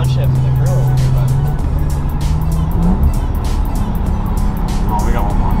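Car pulling hard on a highway, engine note rising then dropping through a gear change while road and wind noise stay steady beneath, heard from inside the cabin.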